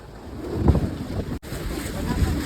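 Gusty wind buffets the microphone in rough low bursts near a temple in Junagadh during a rainstorm, with a brief dropout partway through.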